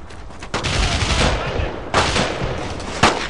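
Gunfire in the World War II shooter Brothers in Arms: Road to Hill 30 on PC: loud, close rapid bursts with sharp new volleys punching in every second or so, thick and continuous.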